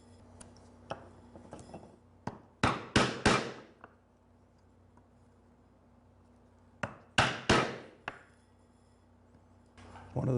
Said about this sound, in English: my chisel and mallet and start removing stock